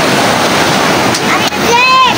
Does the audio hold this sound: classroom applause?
no